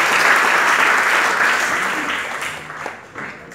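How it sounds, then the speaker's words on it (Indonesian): A congregation applauds at a pastor ordination service in a Jakarta theological school, loud clapping that slowly fades toward the end. "Berikan tepuk tangan buat Tuhan Yesus."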